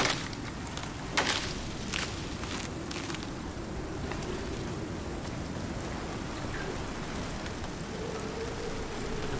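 Rain falls steadily in a video game, a constant soft hiss of drops on surfaces with a few brief louder crackles near the start, no voices.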